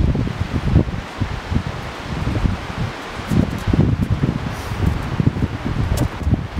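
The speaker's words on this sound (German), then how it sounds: "Diese Windgeräusche hier im Wald, die können wirklich sehr beängstigend sein, wenn man das nicht gewöhnt ist." Wind moving through a Finnish forest, a steady broadband rustle of leaves and branches with gusty swells, continuous and fairly close throughout, with no voices.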